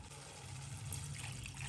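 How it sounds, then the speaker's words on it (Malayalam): Water poured into a simmering fish curry in a cooking pot, a steady soft trickle and splash running continuously at low volume with no talk. "ഇനിയിപ്പോൾ ആവശ്യത്തിനുള്ള വെള്ളം കൂടി ഒഴിച്ച് കൊടുക്കുക"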